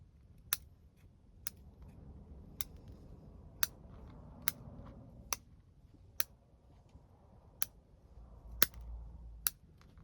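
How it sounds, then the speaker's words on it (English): Pruning scissors snipping back the roots of a Chinese elm bonsai during repotting, about a dozen crisp, close snips at irregular intervals over a low, quiet background. "we're gonna snip back some of these roots up here"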